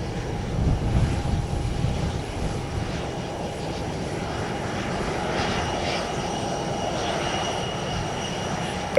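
A steady, distant airliner engine roar rolls on without a break as a plane takes off from runway 18 left at Orlando International Airport, a broad low rumble holding at a moderate level throughout.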